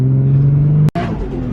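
A 640whp Nissan S15 Silvia running E85 pulls hard in second gear, its engine droning loud and steady from inside the cabin before a sharp cut, then a rougher surge as the tires break loose.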